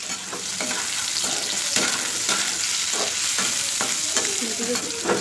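Paneer fries in a pan with a continuous close sizzle, broken by repeated scraping and stirring strokes, with no talking over it.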